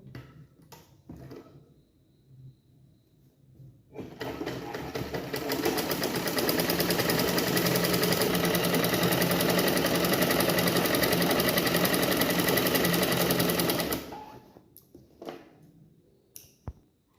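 An electric sewing machine stitching a sleeve onto a collar blouse runs in one loud, steady, fast-buzzing stretch of about ten seconds, with quieter handling clicks and fabric rustles before and after.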